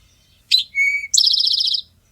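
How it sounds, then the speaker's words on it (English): An Eastern towhee sings its drink-your-tea song close and clear: a sharp opening note, a held whistle, then a fast ringing trill, all against quiet outdoor background. "That one's also Eastern towhee."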